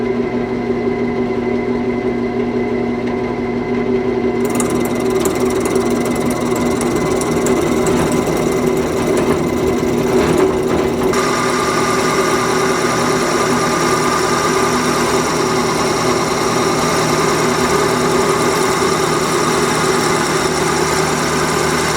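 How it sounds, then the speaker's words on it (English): A walnut coin cup spins on a wood lathe as a drill bores into it, producing a steady, loud mechanical whir and grinding drone that runs continuously throughout with no pauses. "All right, so I'm going to drill."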